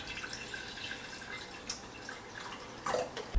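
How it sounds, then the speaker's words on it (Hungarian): Water is poured into a jar to make water kefir, giving faint trickling and dripping sounds close by that build into a brief splashy pour near the end. "Előbb belerakom a vizet, mielőtt belerakom a fügét"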